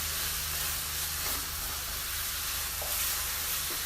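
Shrimp fried rice with oyster sauce sizzles loudly and evenly in a hot pan while being stirred, a close, continuous frying hiss with a low hum underneath.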